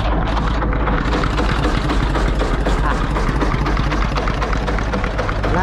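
A Doosan DX55 excavator engine runs steadily nearby, a loud, continuous low diesel rumble with a chattering texture that never lets up.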